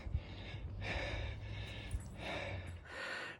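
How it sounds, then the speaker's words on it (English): Heavy, labored breathing from a hiker outdoors in cold winter air, a steady series of close, breathy inhales and exhales in rough rhythm against faint outdoor background. "Don't mind my heavy breathing."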